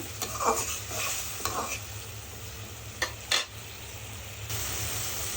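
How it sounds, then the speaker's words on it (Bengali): Shrimp with turmeric and spices stir-fry in a pan, a moderate sizzle under repeated scraping strokes of a spatula and a couple of sharp clinks against the metal, with no voices. "এই তো মশলা কষানো কমপ্লিট"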